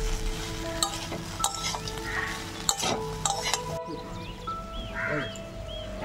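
Fried fish heads being stirred and sautéed in a pan, a close sizzle under repeated spatula scrapes and metallic clinks against the pan, irregular and busy, with no talk.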